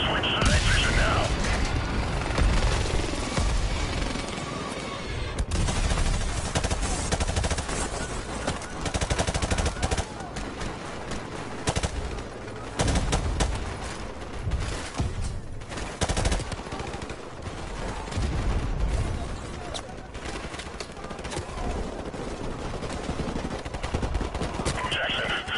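Gunfire in Call of Duty Modern Warfare Remastered: loud, continuous bursts of automatic weapons and scattered single shots crackle throughout, close and dense, with voices talking over the fighting.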